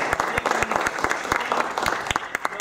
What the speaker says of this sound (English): another round of applause for our presenters